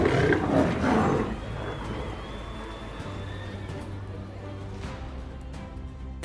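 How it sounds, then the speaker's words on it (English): Lion roar as a sound effect: a deep roar in the first second or so, then a quieter, rumbling ambience that fades out. "the distant cry of a lion"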